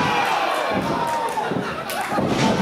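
Heavy strikes thud in a wrestling ring during a pro match between Aaron Williams and Ethan Price, impacts landing over a constant roaring crowd with cheers rising and falling.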